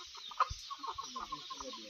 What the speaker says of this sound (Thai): ไก่แม่